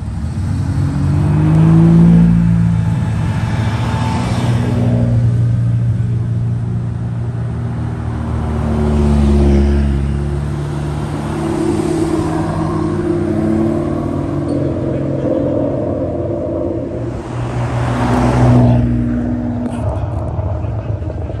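Supercars, including a Lamborghini Aventador and Ferrari models, at the Goodwood Breakfast Club Supercars Sunday meet, revving and rumbling past in several loud swells that rise and fade, with someone talking over the engines throughout.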